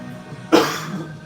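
A single sharp cough bursts out, close and fairly loud, after a moment of quiet background hum.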